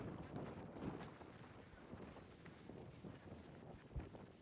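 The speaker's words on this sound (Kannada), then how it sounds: "ಇಲ್ಲಿ ಗಾಳಿಯಲ್ಲಿ ನಿಲ್ಲಿಕ್ಕೆ ಆಗ್ತಿಲ್ಲ" Strong gusts of wind buffet the microphone at the exposed cliff edge of Shantala Drop near Shivaganga outside Bengaluru, a steady rough roar running throughout without speech.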